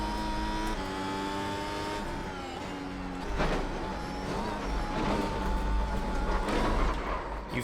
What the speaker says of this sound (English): commentate a full lap at the Nürburgring in a Mercedes Formula 1 car